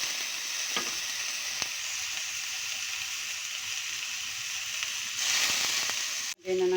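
Onion and garlic sizzling gently in hot oil in a frying pan, a soft steady hiss that grows louder near the end before a sharp clatter and brief drop.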